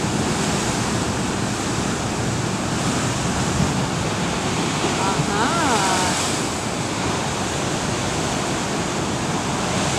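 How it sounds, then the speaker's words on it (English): Ocean waves break steadily on a beach, a continuous loud wash of surf with wind rumble across the microphone and no clear pauses between the crashes. "I'll sit there in my chair and just watch the waves."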